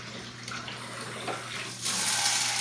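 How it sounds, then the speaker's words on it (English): Water rushes at rising pressure through a cafe's under-sink P-trap being reamed out, a steady hiss that swells louder toward the end, heard alone without talk. "I am going to increase the water pressure"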